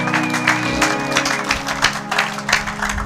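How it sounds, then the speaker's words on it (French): A church congregation applauds, with loud, dense clapping that continues through the whole moment under a sustained tone and the murmur of voices. "Acclamons pour la gloire de notre Dieu et de notre Seigneur."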